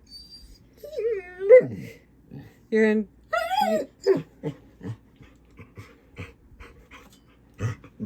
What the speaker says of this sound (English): Don't mind the puppy.